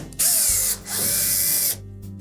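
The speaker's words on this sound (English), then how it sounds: "you'll need to remove 2 screws located on the back edge of that top panel" A power screwdriver spins out Phillips head screws from the top panel of a Samsung dryer in two close, steady whirring bursts separated by a brief pause.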